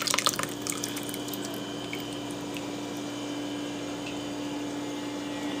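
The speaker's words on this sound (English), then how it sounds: "let it strain through." Herb-infused oil drips and trickles through a metal strainer into a glass bowl, a soft continuous wet seep with a few brighter drips near the start.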